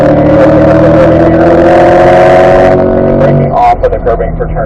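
A C8 Corvette's engine pulls hard on track in third gear, a loud sustained drone with steady harmonics that cuts off near the end, leaving a brief rougher rumble with faint voice.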